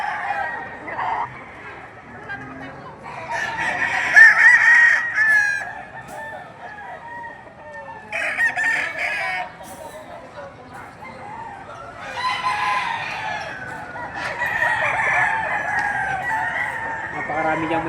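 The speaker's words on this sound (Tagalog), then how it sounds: "Napakarami diyang may dalang manok." Chickens and roosters at a poultry market, with several loud crows in separate bursts over steady clucking, people talking nearby.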